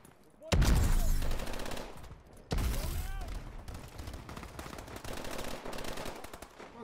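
Loud bursts of gunfire from the Call of Duty Advanced Warfare video game, two heavy blasts near the start followed by continuous rapid shooting and battle noise.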